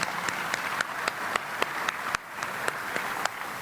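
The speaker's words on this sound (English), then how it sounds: "I think we should give them a round of applause" Audience applause at a 2014 summit, a steady wash of many hands clapping with sharper individual claps popping out, moderately loud and continuous, with no voices over it.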